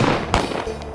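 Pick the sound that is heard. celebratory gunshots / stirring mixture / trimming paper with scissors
celebratory gunshots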